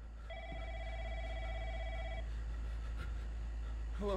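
A telephone rings in the horror video game Room 303, one electronic trill lasting about two seconds, followed by quiet room tone, a faint click and a brief voice at the end.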